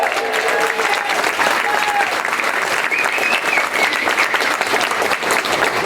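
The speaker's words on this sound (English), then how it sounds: "A big round of applause for her." Loud, sustained crowd applause at a Second Amendment rally in Idaho for Representative Heather Scott, dense clapping continuing throughout with faint voices and cheers mixed in.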